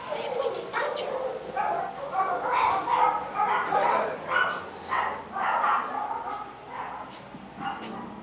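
A small dog yips and barks repeatedly in short bursts, fairly close, with some whimpering tones mixed in.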